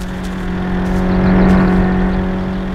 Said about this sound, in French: Ah, il y a une voiture.